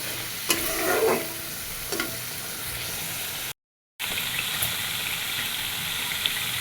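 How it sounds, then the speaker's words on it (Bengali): Spice paste (masala) frying slowly in oil on a low flame, making a continuous close sizzle with occasional stirring scrapes and a brief silent gap midway. "চুলার জাল কমায় দিয়ে খুব আস্তে আস্তে মশলা কষায় নিতে হবে"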